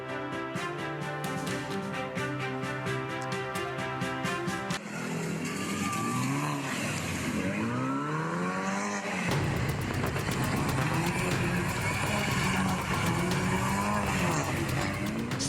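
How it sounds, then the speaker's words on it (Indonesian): Luxury cars drifting at a city intersection in Jakarta, engines revving hard and tires squealing in long sweeping screeches, loud and continuous with music mixed in over the start. "Satu persatu mobil mewah melakukan aksi nekat dan berbahaya drifting di persimpangan Jalan Metro Pondok Indah Kebayoran Lama, Jakarta Selatan."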